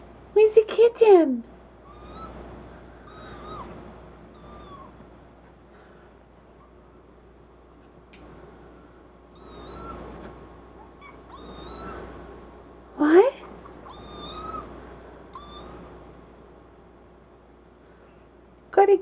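A few high, wavering meows come in short bursts near the start and around the middle, with softer rustling and chirpy squeaks between them.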